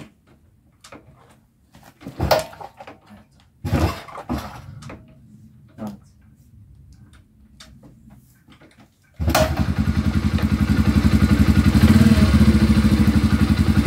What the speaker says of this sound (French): Par contre, le ralenti, il est parfait là.